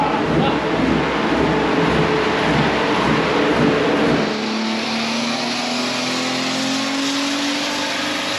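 A drift car engine on stock engine mounts roars loudly at high revs, then drops off and a rising whine climbs steadily as the engine winds up again, close by.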